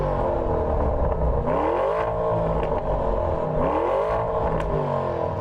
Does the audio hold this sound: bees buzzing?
no